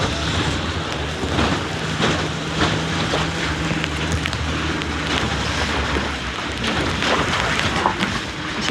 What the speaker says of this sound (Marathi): अशी काही नदी ओहोळ नाले त्यातून पण गाडी जाते.